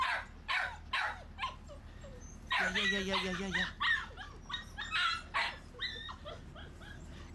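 A small dog barks in quick yips and lets out high, drawn-out whimpers, close by, while a person talks softly in between.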